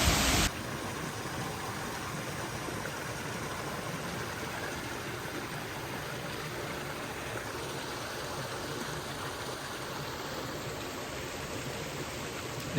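A small creek waterfall spills beside a large rock formation on Arizona's Mogollon Rim, a constant broadband rush that stays even and close from start to finish.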